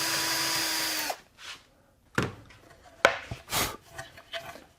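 Screws are driven into wood to build a table saw sled, with a long steady power-drill whir followed by several short bursts of drilling and rubbing, close by and without talk.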